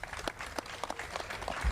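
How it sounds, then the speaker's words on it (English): At an outdoor bridge ribbon-cutting ceremony, an audience claps for the state governor, a brief burst of scattered hand claps at moderate distance. "please give a big round of applause for our Governor"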